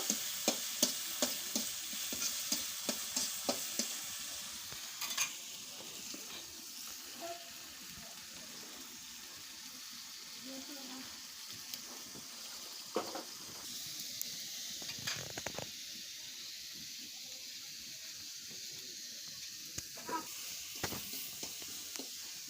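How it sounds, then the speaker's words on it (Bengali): Home-grown jackfruit stir-cooked in a pan without oil, a soft continuous sizzle and hiss with repeated scraping stirs, rhythmic at first and then scattered, fairly faint and with no talking. "তেল নেই এটা একদম সেই কষানো হচ্ছে"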